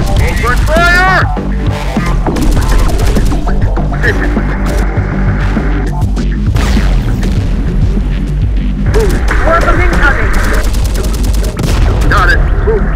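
Loud, dense gunfire and heavy booms from the video game Terminator: Dark Fate Defiance, with bursts of rapid automatic fire and explosions running throughout under a steady rumble, with in-game voice chatter and radio calls over the top.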